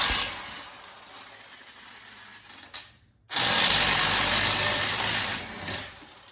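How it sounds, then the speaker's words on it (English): An impact wrench with an 18mm socket rattles in reverse to break a nut loose on a car being prepped for drifting. A short burst comes first, then a pause, then a loud sustained hammering run, all close up. "So an impact is the best thing to get."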